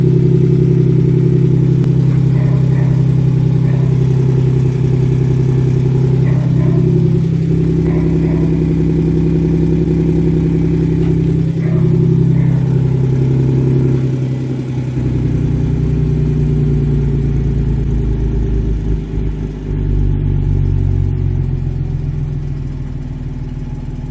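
An Audi S4 B8 engine with a custom X-pipe exhaust runs with a loud, deep, steady drone, with a few modest swells in pitch and volume like light revving and no talking.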